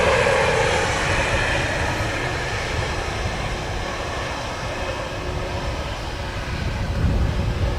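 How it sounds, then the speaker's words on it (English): A Ryanair passenger jet lands on a windy day at Dublin Airport, giving a broad, continuous roar of engines and rushing air heard from a distance, which swells again near the end. "Ryanair from Cluj-Napoca in Romania. Just touched down."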